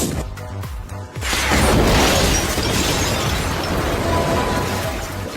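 A sudden heavy explosion bursts in after a brief lead-in, followed by a long loud roaring rumble and debris noise that slowly settles.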